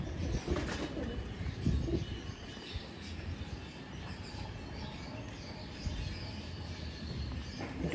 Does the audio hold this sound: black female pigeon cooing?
yes